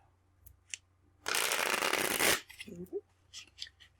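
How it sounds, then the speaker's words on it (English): Tarot cards are bridge shuffled on a table in one loud, dense riffle lasting about a second, followed by a soft card tap and a few faint clicks in an otherwise quiet room. "anytime I like to bridge the shuffle on the table, they like to fly all over the place"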